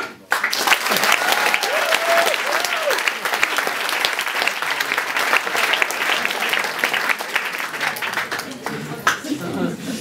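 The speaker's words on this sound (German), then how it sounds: "Applaus für Arne Berg." Dense audience applause fills a poetry slam venue, loud and sustained for ten seconds, with a short spoken announcement over it near the start.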